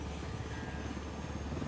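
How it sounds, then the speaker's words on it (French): A helicopter arrives in the video game Ghost Recon Wildlands as a steady, dense rotor and engine drone, loud and continuous with no talk over it. "Il va y avoir un pop d'hélico"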